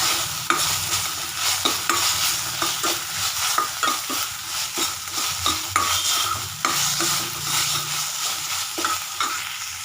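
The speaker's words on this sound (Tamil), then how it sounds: "பூண்டு பச்சை வாசனை போகிற வரைக்கும் நல்லா வதக்கிக்கலாம்" Ginger garlic paste with turmeric sautéed in a pan for a quail gravy, a steady close sizzle broken by repeated scraping stir strokes throughout, with no talking.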